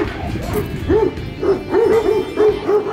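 Kangal dogs on a large farm in Sivas bark in a rhythmic series of deep, repeated woofs with some yips, fairly close, over a busy outdoor background.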